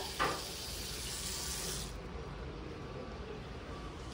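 Water runs from a tap for watering plants, a steady hiss with a brief splash at the start that thins to a softer flow partway through, fairly quiet and unbroken, with no talking.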